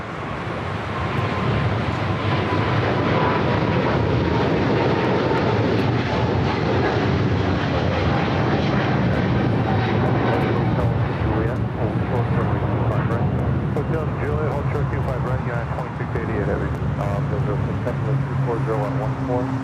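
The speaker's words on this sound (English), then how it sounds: "up next, Turkish, the 777-300ER, flight 180," A Turkish Airlines Boeing 777-300ER jet airliner at LAX gives a loud, sustained engine roar with a broad rushing texture and shifting whine that holds for the whole stretch, with a voice talking over it.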